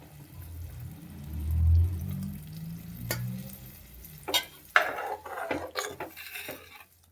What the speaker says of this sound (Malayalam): നമുക്കിനി 2ാം പാല് ഒഴിച്ചു കൊടുക്കാം